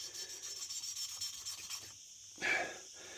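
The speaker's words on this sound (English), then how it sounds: "you can hear the sound of the paste changing as it starts to seat in" Fine grinding paste lapping a valve seat in the cylinder head of a police Moto Guzzi motorcycle, heard as a steady close gritty rasping rub, pausing briefly before a louder scrape.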